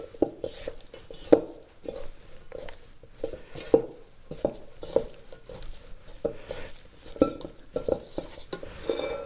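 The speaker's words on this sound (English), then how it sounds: "Make sure it's all mixed together, coated really, really well." Beef is mixed with dry ingredients in a bowl for stroganoff, producing close, irregular clinks and scrapes of a utensil against the dish with soft stirring rustles in between.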